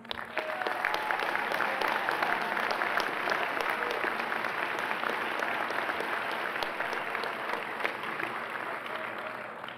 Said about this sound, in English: And I think you deserve a huge round of applause.